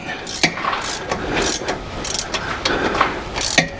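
Ratchet wrench clicking in short bursts while turning the nut on a sway bar end link, close and fairly loud amid light workshop handling noise.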